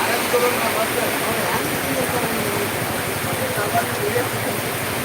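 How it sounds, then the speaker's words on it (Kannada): Steady, dense hiss of heavy rain pouring down, constant and enveloping without a break. "ಮಳಿ ಜೋರು ಬಂದ್ಬಿಡುತ್ತೆ"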